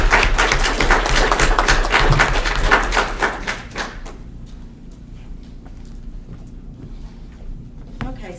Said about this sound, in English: So y'all give her a big round of applause.